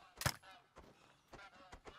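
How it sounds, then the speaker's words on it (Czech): Faint honks from geese in flight in the hunting game The Hunter: Call of the Wild, a few short calls spaced irregularly against a quiet background. "No a oni letí strašně rychle ty husy."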